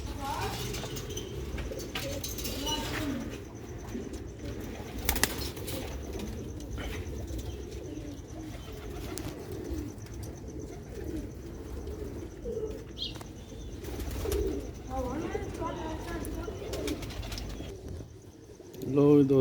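Black-faced Sialkoti pigeons coo in a soft, repeated murmur close by, a steady low warble continuing throughout with occasional brief rustles.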